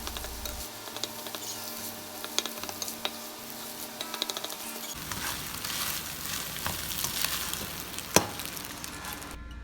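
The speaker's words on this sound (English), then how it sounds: "now I'm going to fry these up. I added about a tablespoon of avocado oil to my wok" Eggs frying in avocado oil in a wok over medium heat, a close crackling sizzle with scattered pops and light scraping clicks, building slightly toward the end with one sharper tap.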